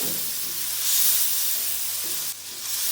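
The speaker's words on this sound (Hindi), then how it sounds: "डालने के बाद 1 से 2 मिनट तक हम इसको अच्छी तरह से भून लेंगे।" Finely chopped tomatoes and green chillies frying in a pan for bhindi masala give off a loud, continuous hissing sizzle, close up and steady throughout with a brief dip near the end.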